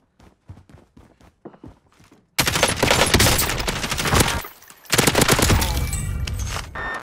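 Rapid bursts of automatic gunfire fill a video game match, coming in two long, loud volleys with a brief lull between. They follow a few scattered thumps and footsteps.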